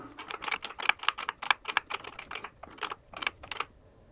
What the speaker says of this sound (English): We're gonna use a 9/16 wrench just to tighten this guy down.